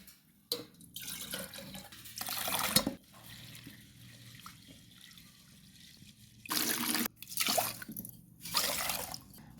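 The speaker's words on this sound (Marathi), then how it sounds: "स्वच्छ तीन वेळा धुवून घ्यायचं" Chana dal, urad dal and fenugreek seeds are rinsed by hand in a vessel of water, with several bursts of pouring and sloshing separated by quiet drips, close and fairly soft.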